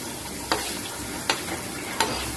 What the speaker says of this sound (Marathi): पूर्ण लाल कलर होपर्यंत मी फ्राय करणार